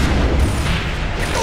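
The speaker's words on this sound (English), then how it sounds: "That's how we avoid the missiles" Missiles exploding in the shooter Gears of War 2, a loud heavy booming roar that fills the whole moment with deep low rumble, continuous and close, no speech.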